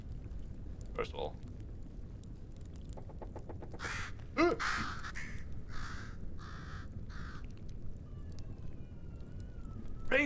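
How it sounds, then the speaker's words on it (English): Crows or ravens caw in the video game Bramble, several harsh calls clustered mid-clip over a low rumbling ambience, with a person talking throughout. "Ravens, or crows for that matter, we're supposed to be friends."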